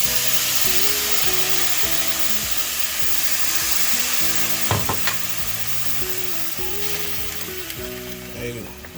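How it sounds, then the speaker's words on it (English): Onions and garlic in a pan, deglazed with two shots of Jim Beam bourbon, hiss in a steady loud sizzle, a few sharp scraping clicks near the middle, under faint background music. "to deglaze means to scrape off all the little stuffs on the bottom"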